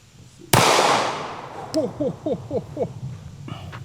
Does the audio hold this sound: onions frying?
no